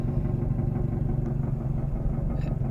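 Mazdaspeed 3 engine idling after a drive, with a steady low mechanical chatter and slap from the timing chain, close up and constant with no talking.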